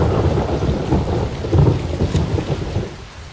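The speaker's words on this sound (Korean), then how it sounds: "그녀의 눈물처럼 하늘에선 비가 쏟아지고" Heavy rain pours down in a thick, constant roar while low thunder rumbles underneath, loud and enveloping throughout with no voices.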